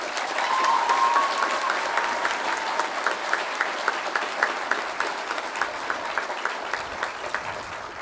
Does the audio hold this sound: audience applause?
yes